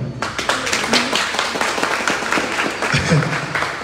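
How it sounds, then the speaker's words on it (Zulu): An audience at a South African gathering breaks into brisk applause, many hands clapping steadily for several seconds, with a voice briefly heard over the clapping. "ngicela simnikeze ihlombe"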